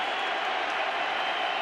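A packed stadium crowd roars steadily at an NFL game, Philadelphia Eagles at Dallas Cowboys in 2013, as fans rise and wave towels, forming a dense, sustained wash of cheering with no distinct voices.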